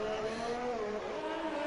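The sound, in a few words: race car engine accelerating in a racing video game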